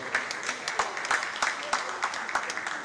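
Audience applause at a panel session of an annual general meeting, a steady patter of many hands clapping with irregular sharper claps, moderately loud and filling the room for a few seconds.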